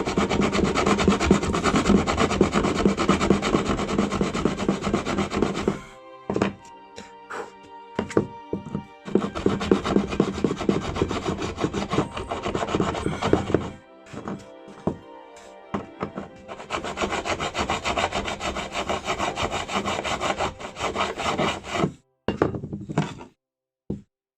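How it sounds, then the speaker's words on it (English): A hand file scrapes back and forth over metal on an ambulance body, giving repeated rasping strokes in long runs broken by brief pauses and a few knocks, close and fairly loud. "That side of the file is just so gummed up with metal shavings that it's not biting at all."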